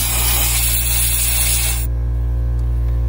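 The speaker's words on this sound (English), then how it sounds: "and there goes the compressor." A loud, steady hiss of compressed air blowing from an air compressor nozzle, used to clean out a socket on a 2008 Ford Mustang GT convertible, cuts off abruptly partway through, leaving a lower electrical hum behind.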